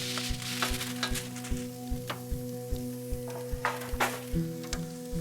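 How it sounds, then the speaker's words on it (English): Pork shoulder steaks sear on a hot grill with a constant loud sizzle and crackle, while a steady low rhythmic mechanical thumping runs underneath. "Can you hear these steaks sear?"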